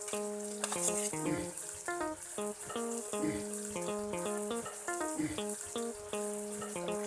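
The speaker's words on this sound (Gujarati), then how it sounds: "તેમાં આપણે ત્રણ કપ પાણી એડ કરીશું" Water poured into a cooking pot for a Surati vegetable tapelu dish, heard as steady splashing and bubbling with clinks of a utensil against the pot, close and fairly quiet throughout.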